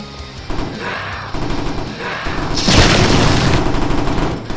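A mine explodes amid rapid gunfire in the Roblox game Zombie Arena, a loud continuous barrage of shots capped by a booming blast, close and dense throughout.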